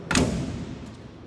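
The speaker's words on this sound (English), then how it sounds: "listen to how these doors sound when you close them" A 1927 Willys Falcon Knight Model 10 sedan door swings shut with a single close, solid thud followed by a short fading ring and a faint rattle afterward.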